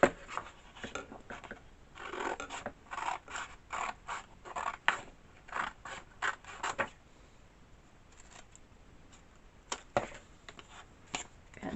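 Scissors cut paper in close-up rustling snips and crisp paper scrunches, coming in irregular bursts, busier at first and then sparser, with no talking.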